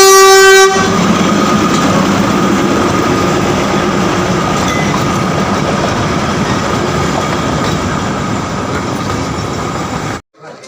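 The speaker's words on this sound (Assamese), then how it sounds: "ফ্ৰেণ্ডছ আপোনালোকক যে দেখাম বুলি কৈছিলোঁ টয় ট্ৰেইন" The Darjeeling toy train on its mountain route opens with a short loud horn blast. A steady, close rumble of running wheels and carriages follows and carries on for about ten seconds before cutting off.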